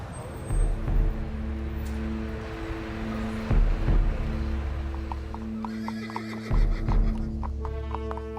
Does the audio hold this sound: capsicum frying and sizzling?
no